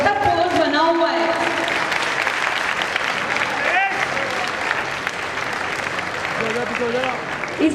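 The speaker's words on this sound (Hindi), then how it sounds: "अब तो तालियां बजती रहनी चाहिए" Audience applause fills the hall at the end of a Chandan Bala dance drama performance, a dense, steady clapping that carries on loudly for the whole stretch with some crowd noise mixed in.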